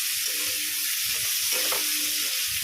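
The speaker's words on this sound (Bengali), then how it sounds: "তেলে ফোড়ন দিয়েছি হচ্ছে সাদা জিরে আর মৌরি" Cumin and fennel seeds sizzle in hot oil in a pan for a Bengali curry, a steady close crackling hiss running unbroken throughout with faint clinks underneath.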